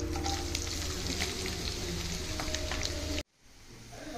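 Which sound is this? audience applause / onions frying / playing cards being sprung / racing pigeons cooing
onions frying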